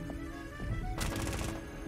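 Gunfire in Rainbow Six Siege: a short burst of rapid sharp shots in the second half, set against a steady droning background hum.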